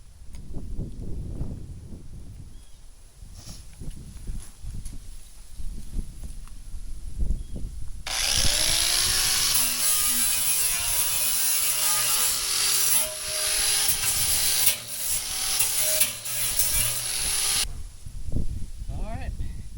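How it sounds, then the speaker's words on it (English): Angle grinder fitted with a flap disc smoothing rough metal edges on a burn barrel, a loud sustained whining grind for about nine seconds between stretches of quieter clatter and handling noise. "we've changed it from the cutting disc to a flapper disc. We're going to try to smooth out some of those rough edges."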